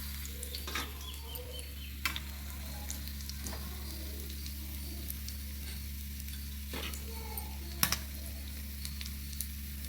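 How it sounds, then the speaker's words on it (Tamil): Fish frying in hot oil, a steady soft sizzle running throughout, with a few sharper clicks and taps of a utensil near the pan. "எல்லாம் ஃப்ரை ஆகிடுச்சு. 2 பக்கமும் திருப்பி போட்டு இப்போ நம்ம எடுத்துடலாம்."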